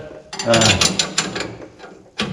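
A wrench tightens U-bolt nuts, giving a close run of quick metallic ratcheting clicks, then a pause and one more burst.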